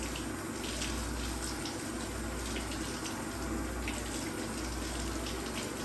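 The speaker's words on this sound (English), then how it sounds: "All right, I'm just washing my hands." Tap water runs steadily into a sink while someone washes their hands before grilling, a continuous broadband splashing rush at close range with no talk.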